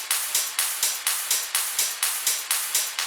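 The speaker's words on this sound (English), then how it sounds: "So there's some drop claps, rides, and then hi-hats." Layered electronic drum loop for a racing-themed track, with drop claps, rides and hi-hats hitting in a steady, quick, evenly spaced pattern. Bright crisp hits over soft low thumps, loud and close, with no voices.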